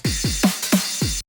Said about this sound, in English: for the transitions, I added a breakbeat sample